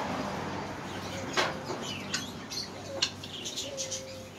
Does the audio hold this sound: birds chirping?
yes